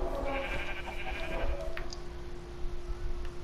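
Sheep bleat in the video game Minecraft, a few wavering bleats over a steady background hum, fairly faint and without speech.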